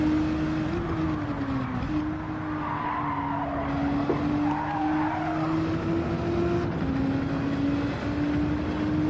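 Race car in Gran Turismo 7 braking into a chicane: a steady, loud engine drone holds throughout with small pitch dips as it slows and turns, plus a broad hiss of tyre and road noise, no voices.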